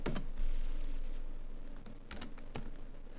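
Keys tapped on a computer keyboard in short bursts of quiet clicks, with a brief flurry at the start and scattered strokes later, close but soft, with no talk.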